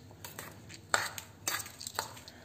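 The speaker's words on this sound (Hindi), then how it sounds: "इसमें थोड़ा सा 1 चम्मच घी डाल के इसको मिक्स करेंगे" Soaked, dried rice stirred with a spoonful of ghee in a pan for kheer, giving light scraping and clinking of a spoon against metal, with a few sharper taps standing out among soft, uneven stirring.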